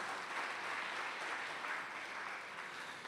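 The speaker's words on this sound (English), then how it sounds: "deserve a round of applause" Steady applause from an audience at a National Easwaramma Day celebration for Balvikas children, a dense continuous patter of many hands clapping at moderate distance, with no voices over it.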